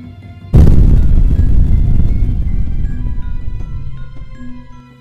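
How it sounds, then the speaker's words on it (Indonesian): A sudden, massive explosion bursts in with a deep rumble that rolls on and slowly fades over several seconds, in an Indonesian audio drama. "Ledakan dahsyat terjadi, bumi berguncang hebat, langit seolah robek oleh ledakan tersebut."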